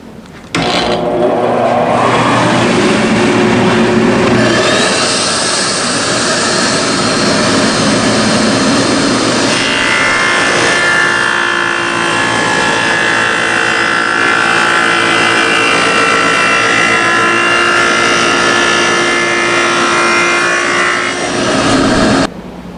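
A stacked dado head cutter cutting a dado into a wooden top shelf, a loud sustained whining roar of the spinning blades that runs for most of the clip, with no talking.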